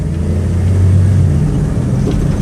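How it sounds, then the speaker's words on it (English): A 1999 Dodge Caravan wheelchair-accessible van on a highway test drive gives a steady, loud engine drone with low road rumble, holding a fairly even pitch throughout with no talking. "I'll give it some gas so you can hear the engine run and the transmission shift."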